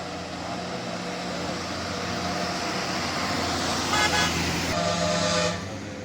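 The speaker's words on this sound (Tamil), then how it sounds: "நம்ம 9th ஹேர்பின் பெண்டில் ஒரு பஸ் போயிட்டுருக்கா" A KSRTC bus engine drones steadily under broad road noise on the ninth hairpin bend of the Ooty ghat road, with a brief horn toot near the end.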